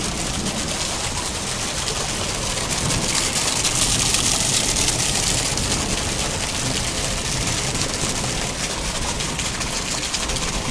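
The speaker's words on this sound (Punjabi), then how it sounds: "ਹੁਣ ਥੋੜ੍ਹਾ ਜਿਹਾ ਘਟਿਆ ਮੀਂਹ।" Rain easing off while water keeps flowing and splashing nearby, a steady, fairly loud rushing hiss that holds evenly throughout without speech.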